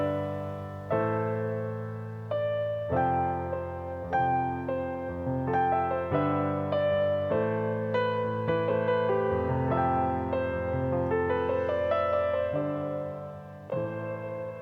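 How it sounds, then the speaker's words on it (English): Piano chords played on a Nord keyboard, a sequence of sustained chords changing about once a second, clear and close with no other sounds. "I just played in the piano chords on my Nord, recorded them in, and just used the audio."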